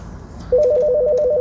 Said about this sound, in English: There will be times, of course, where more than one line is ringing at the same time.